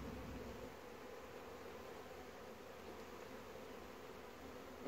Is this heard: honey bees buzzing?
yes